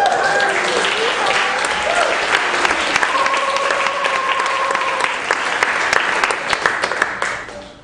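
A live audience makes loud, dense clapping and crowd noise as performers enter the stage at a guitar and electronics show, sustained throughout before tapering off at the end.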